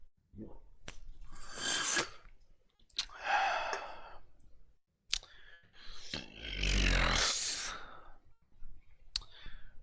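A long, drawn-out burp swells in the middle of a stretch of breathy exhales, sharp clicks and noisy bursts, loud and close to the microphone.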